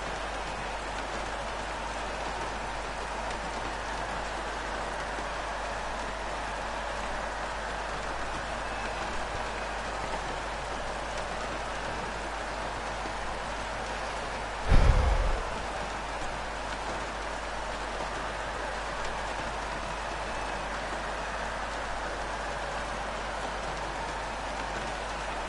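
Rain falling steadily during a GP2 race, a constant even hiss with a low rumble underneath and one brief thump about halfway through, with no voices.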